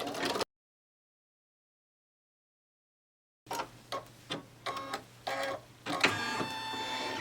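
An embroidery machine stitches a placement line for in-the-hoop paper piecing after a few seconds of silence. It gives a quick, rhythmic run of mechanical clatter bursts, close and fairly quiet.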